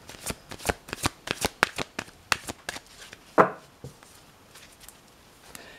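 Tarot cards being shuffled by hand, a run of quick crisp riffling flicks in close succession, then a sharper snap and a few scattered softer shuffles near the microphone.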